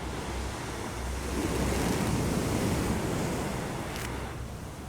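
Ocean surf rolling and breaking at a shoreline, with steady wind buffeting the microphone throughout; a broad continuous roar that swells slightly in the middle and carries no voices.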